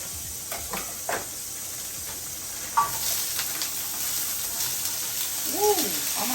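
Carrots cook in a pan on a stovetop with a continuous close sizzle and hiss, broken by a few stirring scrapes and brief faint voice sounds.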